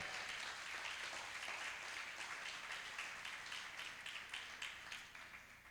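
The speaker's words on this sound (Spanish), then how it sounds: "¿Cuántos le dan un aplauso al Señor por esto?" A church congregation at a Sunday service applauds, a soft, distant blanket of many hands clapping that stays even for several seconds and then slowly tapers off.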